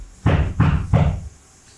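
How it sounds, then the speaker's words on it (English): Three heavy, evenly spaced knocks on a door, loud and close, each a dull thud with a short ring-out, followed by quiet. "There are 3 knocks on the door."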